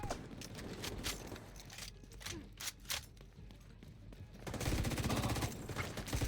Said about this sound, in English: Going for the minigun!